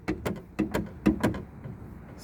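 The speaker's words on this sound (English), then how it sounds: "If anybody ever opens their driver's door and what you hear is this," Opening the driver's door of a 2018 Chevy Malibu sets off a loose rattle inside the door: a rapid run of about six sharp knocks that fade into a faint clatter, heard up close with no talking.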